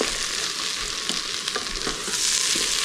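Onions fry in a pan as the base of a Napoli-style tomato sauce, a steady close sizzle with a few soft stirring scrapes and faint clicks, no voices.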